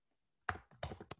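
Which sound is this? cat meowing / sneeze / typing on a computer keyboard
typing on a computer keyboard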